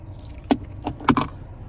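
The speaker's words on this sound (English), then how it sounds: "here's the key fob with remote start" Keys on a ring jingle in a few short metallic bursts close by, with a key fob for a 2023 Nissan Versa SR with remote start, in a quiet setting.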